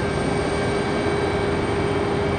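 An Alaska Airlines jet taxis quickly at Raleigh-Durham airport, its engines giving a steady, loud roar with a thin tonal whine, with no voices.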